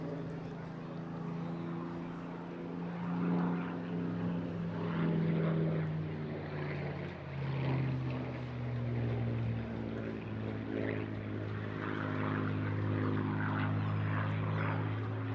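A Supermarine Spitfire propeller aircraft flies at an airshow with a steady, loud engine drone whose pitch slides lower as it passes. It swells and fades slightly without pause across the whole stretch.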